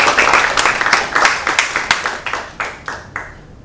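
A round of applause welcoming the speaker, a CPA and head of a tax accounting firm, at a Korean art-investment seminar: a small crowd clapping steadily, then thinning to a few scattered, distinct claps that fade out.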